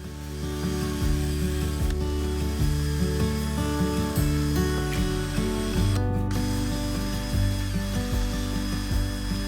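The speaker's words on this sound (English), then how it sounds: "I used a brass wire wheel to scuff the surface and remove the mildew" Brass wire wheel scuffing a bark-stripped yew timber surface, heard as a loud, continuous whirring buzz with clicking, ratchety mechanical texture throughout.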